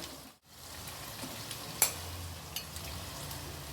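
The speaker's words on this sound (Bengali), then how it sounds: "পনিরটা দিয়েও ভালো করে নেড়ে নেব" Paneer fries softly in a pan for a sesame paneer dish, giving a faint, steady sizzle with a few light stirring clicks and a brief dip at the start.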